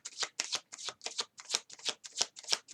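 Tarot cards are shuffled close up for a reading in a rhythmic series of about a dozen crisp riffling bursts, evenly spaced and alone with no voice.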